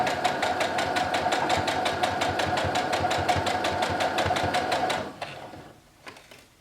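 A sewing machine stitches along the edge of a felt bookmark, a close, rapid, even mechanical clatter for about five seconds, then it slows and stops, followed by a few faint handling sounds.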